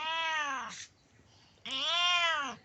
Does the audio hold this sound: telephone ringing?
no